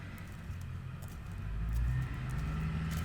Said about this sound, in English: here's Mr. Diesel Truck again. He's having a busy day, in and out.